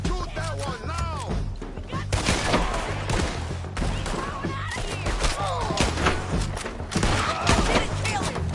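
Gunshots in a Red Dead Redemption 2 story-mode shootout, scattered cracks and thuds mixed into a busy battle with shouting voices throughout.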